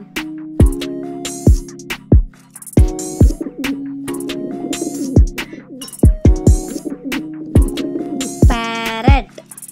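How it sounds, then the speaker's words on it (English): Pigeons cooing in repeated throaty, throbbing phrases, close and fairly loud, with sharp clicks and flutters mixed in throughout. "Pigeon."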